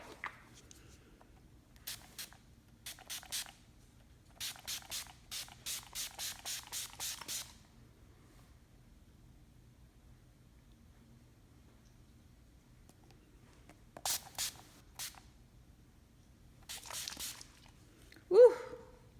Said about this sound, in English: So now we're gonna set with the Urban Decay Chill Setting Spray